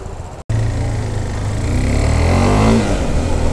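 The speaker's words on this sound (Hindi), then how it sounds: "बाइक्स को स्टार्ट कर दिए गाइज" Motorbikes start up and rev on a trip toward Malana village, with a brief cutout followed by loud, close engine noise and rising revs.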